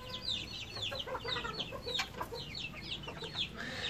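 Zibrit chickens and roosters cluck and call in a busy, continuous chorus, several birds overlapping at moderate distance with no talk.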